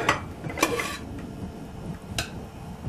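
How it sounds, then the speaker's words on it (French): Steamed semolina being scraped from a metal pot into a dish, with close clinks and scrapes of a utensil against cookware and a soft continuous rustle, no talking. "il faut enlever la semoule et la verser dans un plat"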